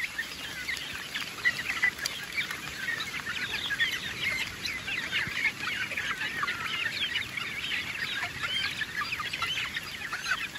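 Chickens clucking steadily, several birds close by, over a constant hiss of rain.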